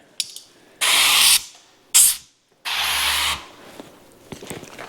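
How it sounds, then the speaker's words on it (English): Bursts of water spray from a handheld bottle, wetting the window gasket of a supercharged Corvette Z06 during tint film installation; three sharp hissing spurts, two long and one short, close and clear with no talk. "Spray some water"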